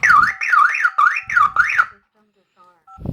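A 2GIG home alarm system, triggered by a key fob, blares a loud, close warbling siren in four rapid rising-and-falling sweeps, cut off into near silence with a faint electronic tone and a short noise at the end.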